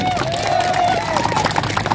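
Crowd at a street rally bursts into dense clapping mixed with cheering voices and a rising whistle-like shout, loud and continuous throughout.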